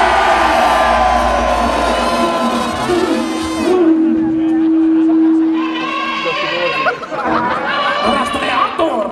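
A group of people shout and whoop together at close range, with loud overlapping voices, one long held yell in the middle, then ragged cheering and chatter.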